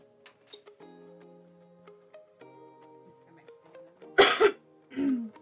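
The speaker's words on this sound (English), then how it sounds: "Excuse me for the cough." Quiet background ticks and faint tones, then one loud, close cough followed by a short throat-clearing sound.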